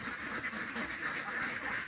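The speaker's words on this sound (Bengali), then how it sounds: "এগুলো হচ্ছে খাকি ক্যাম্বেল হাঁস, ডিমের রাজা যাকে বলা হয়" A flock of Khaki Campbell ducks quacking nonstop at close range, their overlapping nasal calls forming a dense, continuous chatter.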